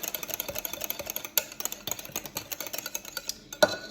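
Corn pudding batter enriched with heavy whipping cream being mixed in a bowl, a steady run of quick scraping and tapping strokes with a few sharper knocks of the utensil against the side.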